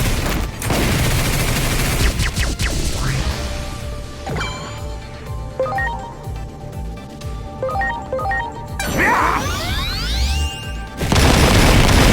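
Hurricane Screw Shot, an attack effect in the game Digimon Story: Time Stranger: a loud, dense barrage of blasts and crashes with whooshing, swept tones and metallic ringing hits, ending in a heavy burst of noise.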